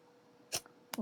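A single sharp sneeze bursts out of a quiet room, followed a moment later by a second short explosive burst.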